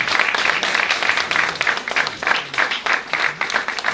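A church congregation claps and applauds during a service, a dense burst of clapping that rises and falls without pause for several seconds.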